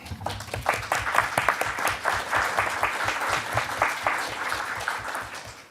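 An in-person audience applauds to welcome the candidates at a League of Women Voters city council candidate forum in Beloit. The clapping is sustained and moderately loud.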